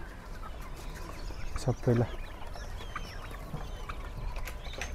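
Local chickens clucking at a weekly market in Yeonggwang-gun, South Korea, a brief burst of clucks amid quiet outdoor crowd murmur, with a voice speaking briefly.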